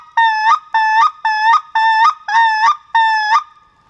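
A mouth-made double tongue clack, tongue snapped against the palate, repeated six times in an even rhythm, each a bright, honking, birdlike two-part pop, close and loud with no talk over it.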